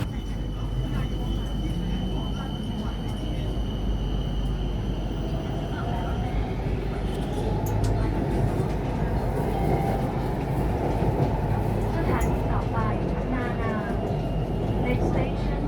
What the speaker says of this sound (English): I will do a recording when I'm in the train.